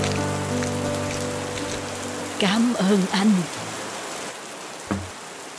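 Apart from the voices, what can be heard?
rain falling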